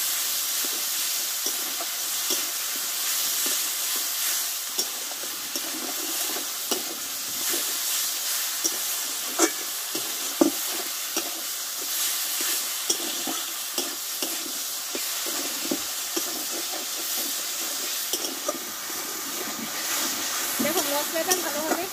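Ginger, green chilli, cumin paste, turmeric and salt frying together in a pan, a steady close sizzle with hissing steam and scattered stirring clicks running throughout.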